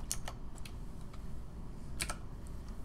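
Typing on a computer keyboard while writing code in Roblox Studio, a few quick clustered keystrokes near the start and again around the two-second mark, faint over steady low background hum, no voices.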